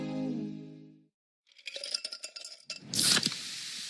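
A metallic click and rattle, then a sharp fizzing hiss as a can of Pepsi Zero Sugar cracks open, followed by liquid splashing and pouring.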